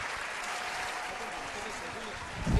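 Audience applause on a TV variety show featuring Laércio Batalha and Loirinho do Piseiro, a steady broadband clapping wash lasting the whole moment with a low thump near the end, mixed with a little speech.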